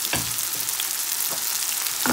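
Vegetables tossed with spices and coarse chili flakes in a pan for a quick couscous dish sizzle steadily, with a few distinct scraping stir strokes cutting through the close, continuous frying hiss.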